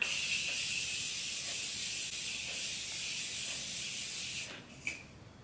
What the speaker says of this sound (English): now we're just gonna set our face with the Morphe Continuous Setting Mist